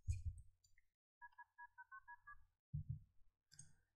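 Phone dialing in The Sims 2: a quiet run of about ten short electronic keypad tones in steady sequence, framed by soft clicks and thumps of game interface sounds before and after.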